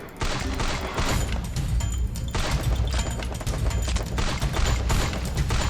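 Gunfire in the Free Fire battle game: sustained, loud volleys of shots pour out almost continuously with dense rapid bursts and heavy low thumps, close and busy throughout.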